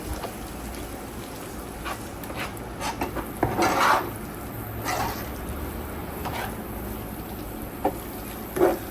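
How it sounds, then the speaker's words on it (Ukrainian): A spoon stirs food in a kitchen pot with added purée, a few scattered scrapes and clinks against the pot spread over a quiet background, with one or two louder knocks. "Ще раз перемішую"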